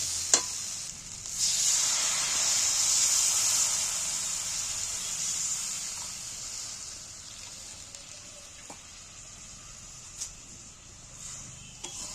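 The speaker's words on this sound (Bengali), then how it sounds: "এবার আমি জল দিয়ে দিচ্ছি পরিমাণ মতন একটু জল দিয়ে" Water poured into hot spiced jackfruit curry raises a strong hissing sizzle that gradually calms to a gentler simmer, with a few sharp clicks of stirring.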